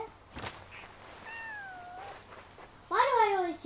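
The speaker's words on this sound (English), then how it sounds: "Why do I always hear meow now?" In the video game Yonder, a cat gives a soft, drawn-out meow followed by a louder, brighter meow near the end, heard close over a quiet game background.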